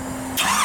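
A 1967 Chevrolet Camaro SS resto-mod with an LSX V8 engine cranks briefly, then fires up abruptly into a loud, broad roar that carries on to the end.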